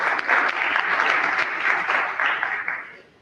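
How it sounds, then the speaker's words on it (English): Audience applause at an IETF administrative plenary meeting, a steady wash of many hands clapping that holds for about three seconds before thinning out at the end. "I'll take the applause"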